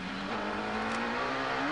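An IndyCar race car engine turns low revs through a slow corner of the 1997 Surfers Paradise street circuit in Australia, a steady droning hum that rises slightly in pitch toward the end, loud and close with no talk.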